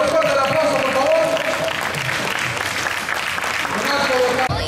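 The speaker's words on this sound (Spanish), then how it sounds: "Fuerte el aplauso, por favor." Crowd applause rolls through the stands at an amateur football game between the Outlawz and the Titans, a sustained, fairly loud wash of clapping with a voice faintly audible beneath it.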